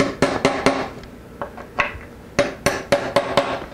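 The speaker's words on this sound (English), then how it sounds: "pop our transfer punches in" Transfer punches are hammered into holes on a guitar neck joint fixture in a workshop, producing about a dozen sharp metallic taps in uneven clusters, loud and close with ringing decay.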